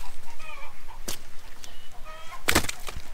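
Several free-range farm chickens cluck nearby in short bursts, with a couple of sharp flaps or rustles breaking through.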